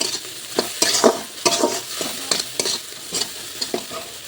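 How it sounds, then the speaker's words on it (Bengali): Spice masala with chili powder is sautéed and stirred in a pan, with rhythmic scraping stir strokes about twice a second over a continuous frying sizzle, close and fairly loud with no speech. "সব কিছু মিলে এখন এই মশলাটাকে কষিয়ে নেব, কষিয়ে ভালোভাবে কষিয়ে নেব।"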